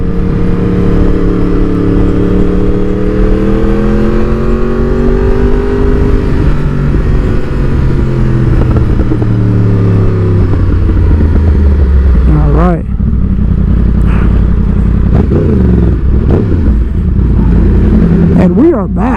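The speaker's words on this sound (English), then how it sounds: "I forgot why it feels like this bike is louder and everything is louder." Motorcycle fitted with Helibar handlebars on a test ride, engine droning loudly and continuously up close with rising and falling revs, heavy wind buffeting and a rider talking over it.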